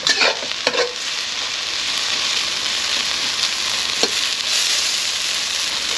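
Garlic frying with wilted onions in a pan, giving a steady loud sizzle with occasional scraping stirs, close by and with no voices.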